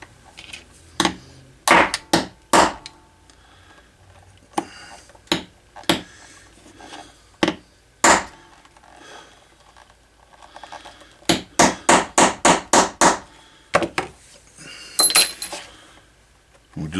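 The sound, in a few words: doming a steel rivet on a holster with a doming tool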